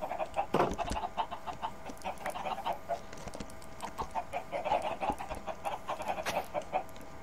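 Chickens in the Minecraft video game cluck in scattered, repeated short calls over a busy background, with several birds audible at once.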